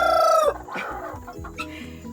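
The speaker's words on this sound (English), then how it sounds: "That is my old rooster." A Colombian Wyandotte and light Brahma cross rooster lets out a single loud, close crow that ends abruptly, followed by softer clucking from hens around the chicken yard.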